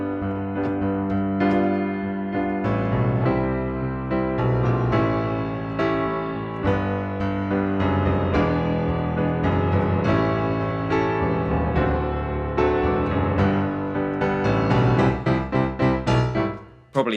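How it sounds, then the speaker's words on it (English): A well-known chord sequence of minor, major and seventh chords, played as a steady progression of sustained harmonic chords on a keyboard-like instrument, full and close, building and ending with a brief final flourish. "you get a chord sequence that is used in hundreds of songs."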